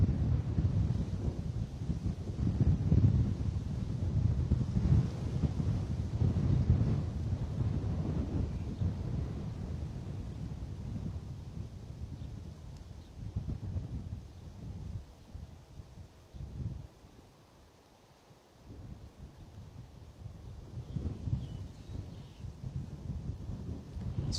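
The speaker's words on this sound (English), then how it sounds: "the pilots are handling it admirably, but there is a fair crosswind." Wind gusting across an open airfield at Bristol Airport, a steady broadband rumble that surges and fades in uneven waves, with one brief lull near the end. No one speaks over it.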